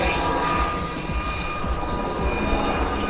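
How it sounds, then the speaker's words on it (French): Gazelle helicopter pulling up into a steep climb during an air show display in Cholet, a steady loud turbine and rotor roar sustained throughout the brief moment. "Allez, on tire sur le manche, ça monte très très fort."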